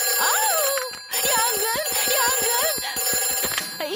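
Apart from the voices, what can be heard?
fire station telephone ringing, cartoon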